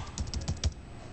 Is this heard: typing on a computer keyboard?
yes